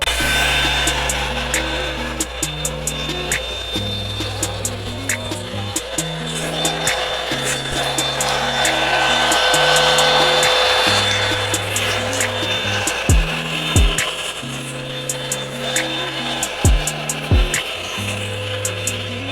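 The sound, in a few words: Revlon One-Step hair dryer blow drying hair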